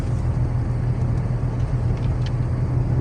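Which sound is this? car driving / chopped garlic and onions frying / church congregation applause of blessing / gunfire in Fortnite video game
car driving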